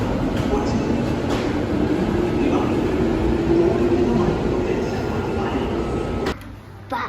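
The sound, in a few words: train arriving at station platform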